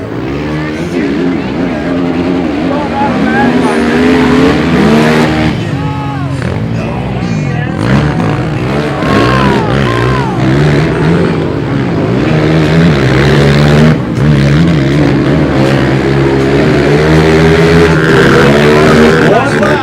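Quad bike engines rev and whine continuously through a quad racing final at a monster truck night in Markham, loud and sustained with rising and falling pitch under an excited announcer and crowd noise.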